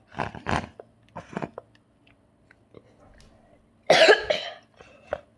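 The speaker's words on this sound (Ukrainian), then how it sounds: "Я кашляю." A single harsh cough bursts out after scattered short vocal sounds and soft clicks, fairly close and loud against a quiet background, during a Roblox Toilet Tower Defense game session.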